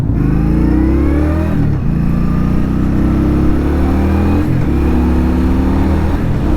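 Indian Scout Bobber Twenty motorcycle engine rumbling loudly and close while riding, with rising pitch as it accelerates through gears and brief dips at two shifts.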